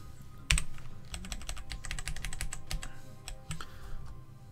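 Rapid, steady keystrokes on a computer keyboard, close and fairly loud, with a sharper key strike near the start and no talking over it.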